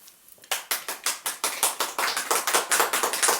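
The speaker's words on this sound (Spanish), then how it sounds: "aplaudir-li a ella, que és la que ha parlat" An audience at a pendulum healing course claps in a brisk, even rhythm. The clapping starts after a brief quiet moment and continues loud and close until the end.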